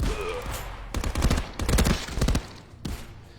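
Rapid bursts of gunfire in the VR shooter game Contractors on a Pico 4 headset, several loud clustered volleys with short gaps between them.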